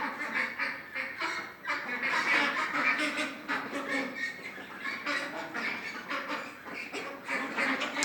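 Domestic ducks kept in a home yard quack repeatedly at close range, a busy, overlapping chorus of nasal calls that carries on without pause.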